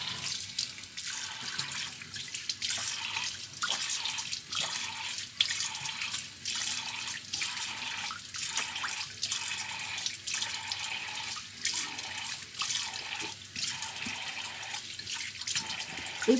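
A bathroom tap runs steadily into a sink while a coffee facial scrub is rinsed off the face, with rhythmic splashing as hands scoop water, close and continuous, no talking.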